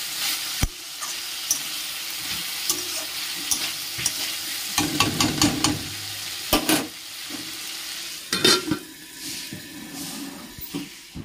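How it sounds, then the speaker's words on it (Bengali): Steady sizzle of potatoes frying in a pan, broken by repeated scraping strokes of a spatula stirring them, close and fairly loud. "এখানে আলু ভাজি বসিয়ে দিলাম"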